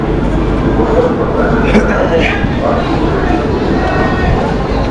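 The Duronto Express, a Howrah–New Delhi train, stands in a crowded station with a steady low rumble under loud, dense crowd chatter and voices.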